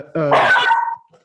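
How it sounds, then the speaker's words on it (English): A pet dog barks once or twice close by in a home, a short harmonic yelp rising out of near-silence and fading within about a second, with a brief voice at the edge. "Oh, that's my dog."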